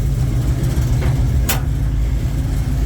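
A 1969 Ford Mustang V8 fitted with a new carburetor and electronic choke idles steadily and close by, a low, even rumble with a brief higher swell partway through.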